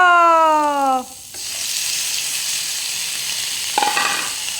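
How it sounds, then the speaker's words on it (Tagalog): Cabbage goes into a hot pan for a vegetable stir-fry. A loud high whine at the start cuts off abruptly into a steady, close sizzle, with a brief clatter near the end and no talking. "Ilagay na natin yung itong repolyo."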